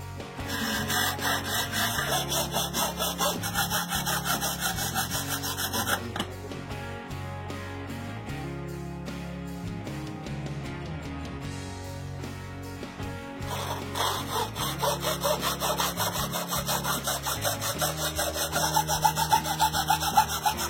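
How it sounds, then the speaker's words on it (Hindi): A hacksaw cuts through a copper clad PCB board in steady back-and-forth strokes, close and continuous, with a lighter stretch of sawing midway before the full rasping strokes return. "जब इस तरह से आरी से काटते हैं तो कटिंग ऊपर आ जाती है।"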